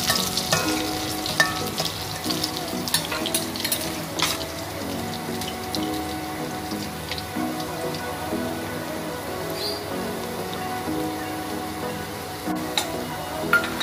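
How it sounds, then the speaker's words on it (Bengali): Potatoes fry in a pan as the first step of a bhetki fish curry, a steady close sizzle and spatter running throughout, overlaid with scraping and stirring clatter and occasional sharper knocks against the pan. "প্রথমে আলুটা আমরা ভেজে নিচ্ছি"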